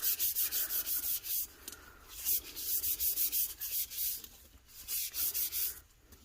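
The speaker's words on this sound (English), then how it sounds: "I'm going to burnish this layer a little bit" Repeated rubbing strokes of a burnishing tool pressing a vinyl layer onto a tumbler cup, a steady close scraping rhythm of short back-and-forth passes with no talk.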